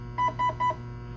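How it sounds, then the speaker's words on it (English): A Specna Arms SA-E07 Edge 2.0 airsoft AEG beeps three times in quick, even succession when its battery is connected through a Deans plug, clear tones over a low steady hum. "it vibrated a little, it beeped"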